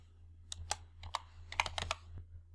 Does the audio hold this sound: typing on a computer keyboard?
yes